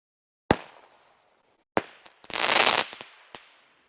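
A TNT Pyro Geek single-shot consumer firework: a sharp launch pop, then a loud burst report with a crackling roar, followed by a few scattered trailing pops and crackles.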